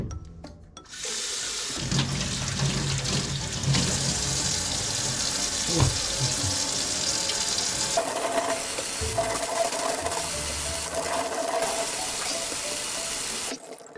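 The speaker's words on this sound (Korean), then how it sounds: "이제 야채를 씻어줍시다" Vegetables for a simple home-cooked sukiyaki with tofu are washed under a running kitchen tap, a steady close splashing hiss of water into a sink lasting throughout, with no talking.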